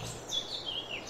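Birds singing in a forest in Farming Simulator 22, high whistling chirps rising and falling in a short phrase over a quiet ambient bed.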